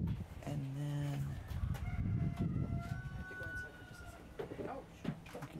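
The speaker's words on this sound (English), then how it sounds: "I hear the rooster." A rooster crows out in the countryside, a harmonic call near the start with fainter bird calls after it, all heard under people talking.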